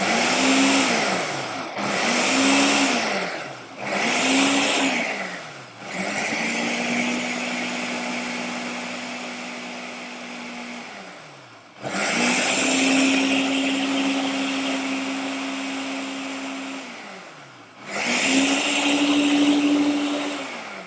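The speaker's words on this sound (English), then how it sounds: "we're just stopping the blender and just checking the consistency of this" A kitchen blender pulses through raspberries and oats for energy balls, three short loud whirring bursts followed by two longer runs that wind down, each start rising sharply then cutting off.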